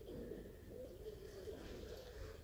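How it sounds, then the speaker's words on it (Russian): Pigeons coo softly in a loft, a low, steady murmuring that runs without a break over a constant background hum, faint and somewhat distant. "Вот голуби начинают там играть."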